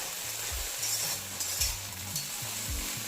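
Egg being stirred and fried over high flame in a hot pan, a steady sizzle with repeated scraping stir strokes, close and alone.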